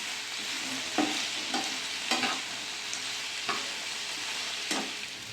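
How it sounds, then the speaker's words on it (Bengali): Chopped capsicum with a little salt is stirred in a hot frying pan, with a constant sizzling hiss and about five evenly spaced scrapes of the spatula against the pan, close up and with no talking. "ক্যাপসিকামটাও দিয়ে দেবো। দিয়ে দেবো অল্প নুন। নেড়ে নেবো।"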